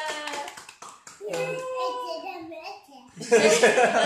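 Clapping breaks out at a child's birthday party after the candles are blown, a burst of close hand claps arriving late and loud, with children's voices and adult talk heard before it.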